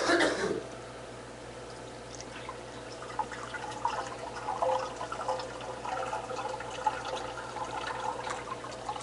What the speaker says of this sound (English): So I'm going to pour this in.